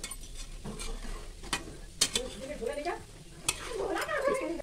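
Sweet wheat-flour and jaggery snacks fry in a pan on a gas stove, a steady sizzle under intermittent scrapes and clinks as they are turned.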